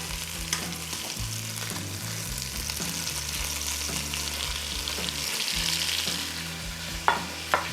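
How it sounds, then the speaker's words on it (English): Meat for a Persian feast fries in a hot pan, a steady loud sizzle with occasional clinks and scrapes of stirring. "we're going to put the rest of the meat in there"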